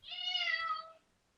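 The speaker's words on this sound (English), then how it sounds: "That was a cat right there." A single cat meows once, a clear, fairly close cry lasting about a second before falling silent.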